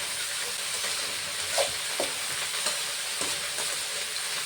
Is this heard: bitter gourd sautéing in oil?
yes